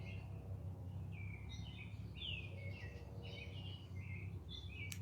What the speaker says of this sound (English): I do love painting outside, especially listening to the birds